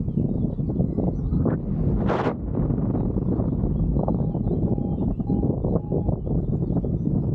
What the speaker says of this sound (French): On voit qu'il y a pas mal de vent.